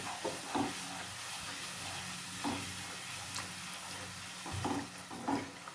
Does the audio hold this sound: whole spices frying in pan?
yes